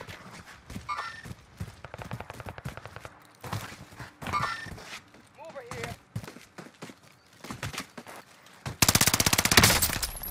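Rapid automatic bursts from an Armaguerra submachine gun in the Warzone video game, ending in a loud sustained burst, with players talking over the shooting.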